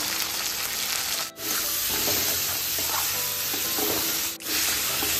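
Mutton frying in a pan with crushed ginger, garlic and onion, a loud, continuous close sizzle with stirring scrapes and two brief dips where the hiss momentarily drops, no voices.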